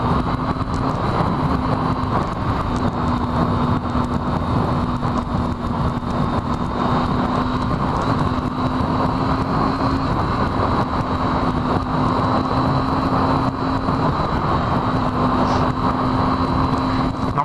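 Steady road noise from riding a Triumph Daytona 675 motorcycle in Royal National Park behind slow cars, a constant engine drone and tire hum with no breaks, close and fairly loud throughout.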